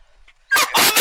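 Police K-9 dog during an arrest, giving a faint whine and then two loud, sharp barks in quick succession near the end.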